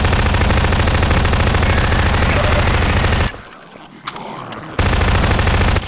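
Rapid gunfire from the double-barrel shotgun in Half-Life 2 co-op, a dense, loud sustained burst of blasts filling most of the moment, cutting off into near silence for over a second before the loud firing resumes.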